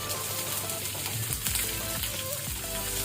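Constant crackling sizzle of small onions frying in hot oil on a low flame, close and steady throughout.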